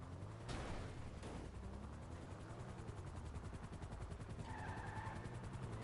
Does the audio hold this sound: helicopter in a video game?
yes